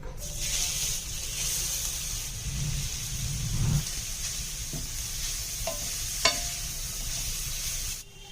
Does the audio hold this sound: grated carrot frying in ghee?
yes